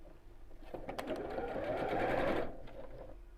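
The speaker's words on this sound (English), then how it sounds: "So line at the edge of my fabric and sew straight down." Sewing machine running a straight seam along the fabric edge of a zippered bag, a short burst of rapid stitching that swells and then eases off, close and clear.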